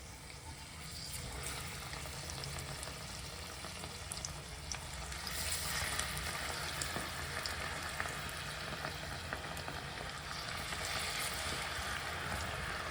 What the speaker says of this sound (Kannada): ಸೊ ಇದನ್ನು ಎಣ್ಣೆ ಒಳಗಡೆ ಹಾಕ್ಕೊಳ್ಳೋಣ. ಕಾದಿದೆ ಎಣ್ಣೆ.